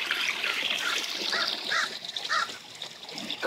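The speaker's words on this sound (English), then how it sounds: "Crows are making noise." Crows caw a few times at a distance, faint over a constant outdoor wash of trickling water from koi ponds and background hiss.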